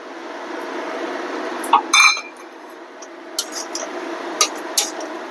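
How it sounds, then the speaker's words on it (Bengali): Potatoes and cauliflower dropped into a pan of cooked-down spices for a cauliflower and egg dish, a few clattering knocks and clinks of utensil against the pan over a low, steady background hiss. "মশলাটা কষানো হয়ে গেছে বেশ খানিকটা এবার আলুগুলো দিয়ে দেবো কপিটাও দিয়ে দেবো"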